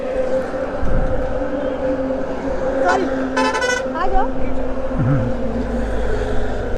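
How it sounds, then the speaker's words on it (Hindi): A vehicle horn toots several times in quick bursts amid steady road and engine noise, with voices talking nearby, on a road trip from Agra to Dewas. "कोई बार बार हॉर्न बजा रहा है"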